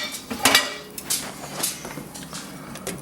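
A lid clanks onto a metal cooking pot on a stove, sharp metallic knocks and clatters near the start, then lighter taps and rattles, close and without speech.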